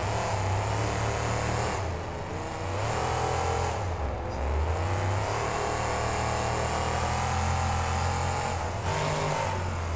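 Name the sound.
monster truck freestyle driving in video game BeamNG Drive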